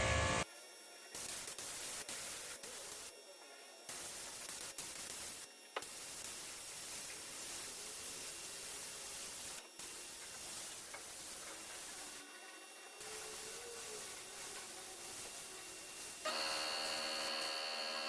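A 3M Performance spray gun hisses in repeated bursts while spraying metallic paint on a golf cart, steady close spray noise broken by short pauses between passes.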